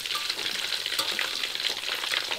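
Tofu fries in hot oil, a dense close crackling sizzle with bursts of popping throughout, steady and loud, with no speech.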